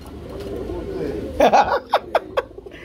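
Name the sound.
pigeons cooing at a market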